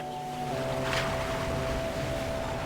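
Strong ocean waves wash steadily in a video game scene, a broad continuous surf roar with a faint, sustained tonal hum beneath it.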